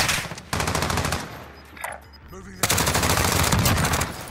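Rapid automatic gunfire in a video game shooter, loud bursts of machine-gun fire at the start and again after a short pause, continuing to the end with dense rattling shots.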